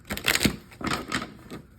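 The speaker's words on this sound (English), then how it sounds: "the way that most people shuffle their decks is like this" A tarot card deck is shuffled by hand, giving quick close riffling bursts of card flicks and soft clacks in two short rapid runs.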